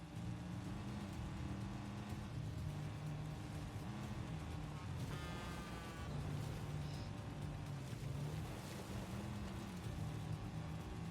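A car engine droning steadily while driving in the game 007 First Light, a constant low rumble with shifting tones and a brief high whine, continuous and moderately loud without speech.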